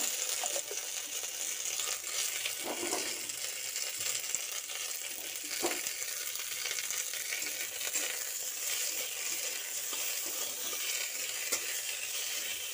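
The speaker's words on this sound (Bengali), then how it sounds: "পেঁয়াজগুলো আমার হয়ে এসেছে, লাল লাল ভাজা হয়ে গেছে, এর মধ্যে আমি টমেটোগুলো দিয়ে দেবো।" Onions browned in a pan with tomatoes going in, frying in a steady, even sizzle throughout, with occasional soft scrapes of stirring; close and moderately loud, no talking.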